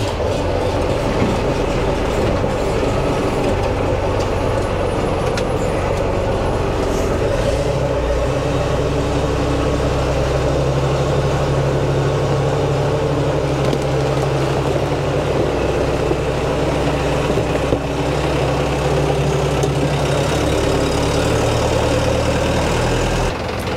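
New JLM Chinese tractor engine running steadily as it drives out, a loud continuous diesel rumble and mechanical clatter with a shift in tone partway through, no voices.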